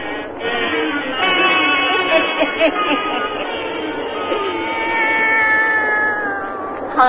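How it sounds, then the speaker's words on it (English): A black cat meows and caterwauls repeatedly in an old radio drama, drawn-out wailing cries close to the microphone over a faint background hum. "And now let us join old Nancy, witch of Salem, and Satan, her wise black cat"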